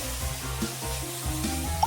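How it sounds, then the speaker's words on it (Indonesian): Pancake batter poured into a hot pan sizzles steadily, a close, continuous frying hiss with faint clinks, no talk. "Tuang sedikit adonan di wajan."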